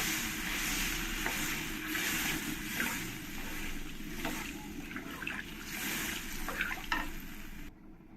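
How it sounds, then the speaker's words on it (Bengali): Water goes into a pan of fried taro for a fish curry, followed by stirring: a steady sizzling wash with scattered scraping and clinks, close and moderately loud, with no talking. "এবার আমি জল দিয়ে দেব জলটা দিয়ে ভালো করে একবার নেড়ে দেবো"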